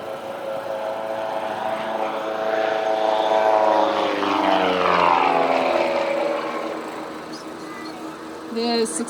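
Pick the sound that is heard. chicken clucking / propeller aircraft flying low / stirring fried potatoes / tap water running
propeller aircraft flying low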